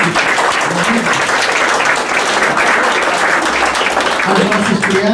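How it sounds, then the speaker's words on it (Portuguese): Steady, loud applause fills a church during Mass, the congregation clapping continuously for friends following online, with a voice briefly heard over it near the end. "Uma salva de palmas por aqueles nossos amigos e amigas."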